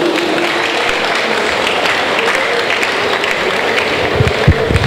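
An awards and recognition ceremony audience keeps clapping in a steady, even wash of applause that holds at the same level throughout, with no voices standing out.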